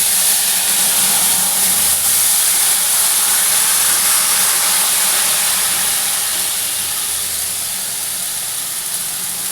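Garlic juice hits hot oil with cumin tempering for a potato-cauliflower fish curry, a loud, steady hiss and sizzle close by that fades slightly toward the end.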